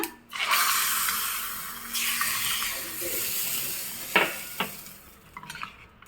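Mustard seed tempering is poured into a raw mango masala gojju with a loud, steady sizzle that fades over a few seconds, followed by a couple of sharp clinks near the end.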